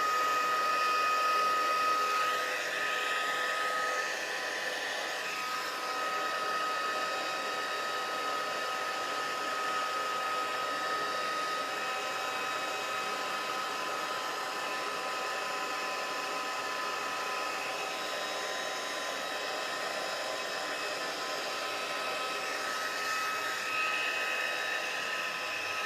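A heat tool blows a steady, continuous stream of hot air to heat-set fabric, a constant moderate whoosh with slight wavering in tone and no talking.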